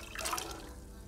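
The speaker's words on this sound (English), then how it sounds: "we're gonna take the chickpeas with the same water and add it to a" Soaked chickpeas and their soaking water are poured into a pot, a brief close splash and trickle that fades quickly.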